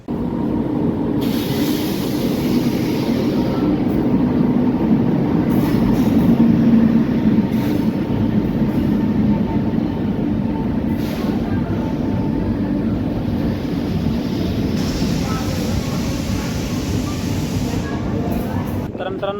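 The KSR Bengaluru Nanded Express, train 16593, rumbles along the line between Bidar and Nanded, a continuous loud low roar of wheels and carriages heard from on board, steady throughout with occasional squeals and shifts, and a voice speaking over it.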